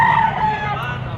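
A gamefowl rooster of the Talisay bloodline crows at a gamefowl market in Padre Garcia, Batangas, a sustained call riding over steady crowd murmur and background voices.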